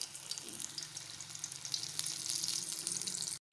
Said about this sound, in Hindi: अब इस तरह हम जो है वो सारी अच्छे तरीके से फ्राई कर लेंगे।